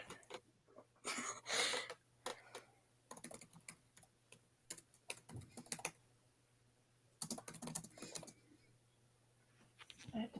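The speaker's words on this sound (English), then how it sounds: "Oh, I can hear the typing." Clattery bursts of typing on a computer keyboard come in irregular runs separated by quiet gaps, close and fairly soft, against a faint background hum.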